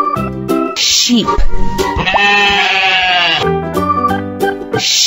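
A sheep bleats loudly for a long, wavering stretch in the middle of a children's animal cartoon, with cheerful music playing before and after the call.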